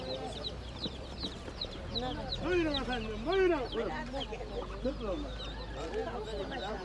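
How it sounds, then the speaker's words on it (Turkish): Laying hens cluck and squawk at a busy chicken market, a few louder rising calls standing out over the crowd, with a vendor talking throughout and steady background chatter. "Yumurta tavuğu bak bir kere."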